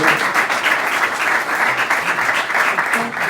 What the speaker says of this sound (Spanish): Al aplauso.